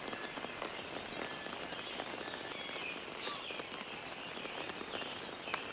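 Steady rain falls in the jungle of the survival game Green Hell, a dense, even hiss of drops pattering on surfaces with scattered sharper taps, moderately quiet and unbroken, with no voices.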